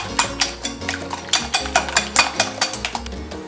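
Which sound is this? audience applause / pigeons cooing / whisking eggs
whisking eggs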